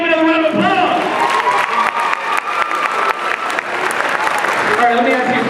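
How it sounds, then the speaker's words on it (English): A school youth-speaker event audience breaks into sustained applause with some cheering, loud and continuous throughout. "give Gabe another round of applause"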